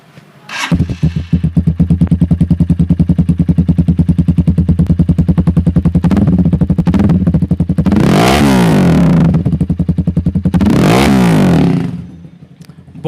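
A Suzuki Sultan 250 cc motorcycle idles with a loud, rapid thumping exhaust beat close by, then is revved hard twice, each rise swelling into a roaring high-pitched blast before falling back to the steady idle and cutting off.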